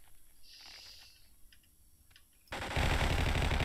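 Gunfire in the Vietcong video game, a thin irregular crackle of shots under the background that gives way to a sudden loud, dense burst of sustained fire.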